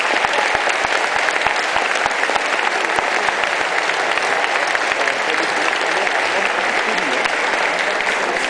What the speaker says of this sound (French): Donc je crois que ça mérite vraiment vos applaudissements.